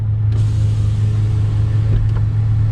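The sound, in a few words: tuned car engine running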